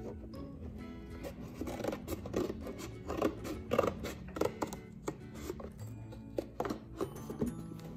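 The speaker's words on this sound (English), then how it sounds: "once you get it started, you can also just take scissors" Scissors snipping through a plastic container being cut open for an upcycled bird feeder, a steady run of close, crisp cuts and crunchy plastic scrapes in a quiet room, with no talking.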